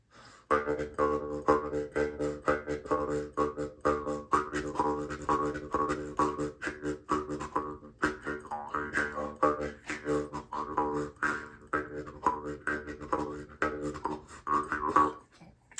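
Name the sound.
Jew's harp playing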